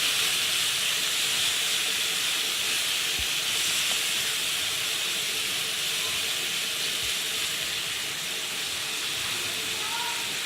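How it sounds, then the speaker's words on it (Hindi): Chopped onions sauté in hot oil in a pan, giving a steady, dense sizzling hiss that holds evenly throughout at close range. "ऑयल में थोड़ा सा सौते करना है, ज़्यादा नहीं पकाना प्याज को हमने।"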